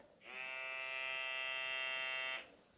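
A steady, high-pitched electric buzzing hum from a small handheld battery lip plumper device, switching on, running evenly for about two seconds, then cutting off.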